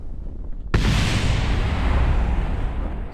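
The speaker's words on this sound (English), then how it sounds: "the explosions scare the shit out of me every time" A sudden loud explosion in Kerbal Space Program bursts from silence into a dense, roaring rumble that sustains without fading for several seconds.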